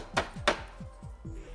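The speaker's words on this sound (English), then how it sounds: "After that I'll tap the pan." A cake tin half filled with chocolate biscuit cake batter is tapped on a surface, giving about six quick, soft, evenly spaced thuds, with two sharper knocks early on.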